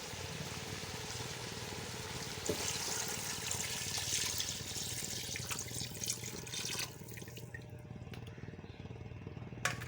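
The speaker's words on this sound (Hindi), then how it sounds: "अब मैं इसमें 6 गिलास पानी के डाल दूँगी।" Water pours steadily into a pot of goat head curry, a continuous splashing gush up close that cuts off near the end, leaving a quiet trickle, with no talking.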